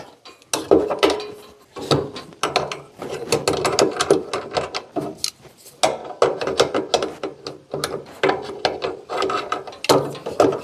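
A wrench tightens bolts while a servo motor and needle position sensor are installed, giving rapid clicking ratchet bursts and metallic knocks in irregular runs close by, with no voice.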